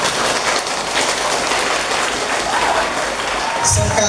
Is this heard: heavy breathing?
no